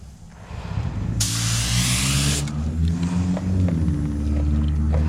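A spray gun lays clear coat on a car quarter panel, a bright steady hiss lasting just over a second over a loud low engine-like rumble that keeps going.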